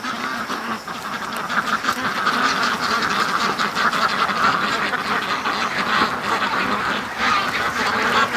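Ducks quack steadily and loudly in a farmyard flock raised for charity, a dense chorus of overlapping calls with no talking.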